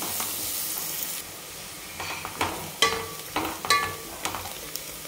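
Finely chopped onion is sautéed in a pan for a mutton curry. A steady hiss of frying leads into a series of sharp spoon scrapes and knocks as the onion is stirred, with no voices.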